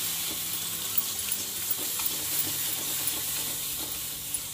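Spices such as turmeric, red chilli and amchur powder are stirred in a hot pan for samosa filling, with a steady close sizzle and light scraping stir sounds throughout.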